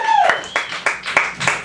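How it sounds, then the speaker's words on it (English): A few separate, loud handclaps from an open-mic audience land in an uneven rhythm, mixed with a whoop or whistle and some crowd voices. "One big round of applause for Jet Fighter Watson"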